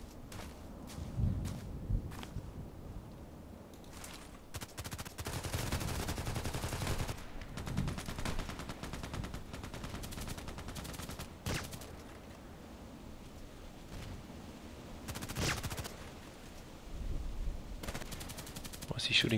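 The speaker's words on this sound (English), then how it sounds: "He's shooting at me." Enemy gunfire in a video game shooter, with repeated bursts of rapid shots and single cracks scattered over steady game ambience and footsteps, someone occasionally talking over it.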